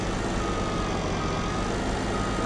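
Truck reversing beeps from a vehicle in the video game Farming Simulator 19, a steady repeating warning tone over a constant engine drone throughout.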